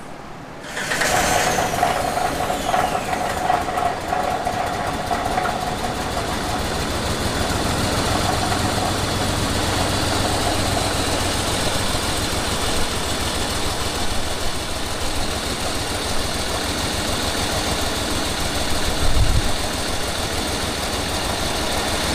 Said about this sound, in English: Got fuel pressure, probably running on 4 cylinders, but it's running